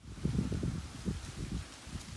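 Soft, steady rustling of autumn leaves stirred by wind in Sweden, low and breathy, brief and fairly close, with no voices.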